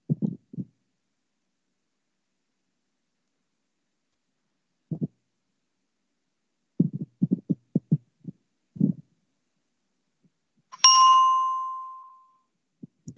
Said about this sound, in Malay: Loceng didengari dengan jelas sekali